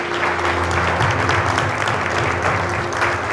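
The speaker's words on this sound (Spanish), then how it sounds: "Dale un aplauso a nuestro Dios." A church congregation claps together in worship, dense steady applause filling the room with rhythmic hand claps at close range, no speech.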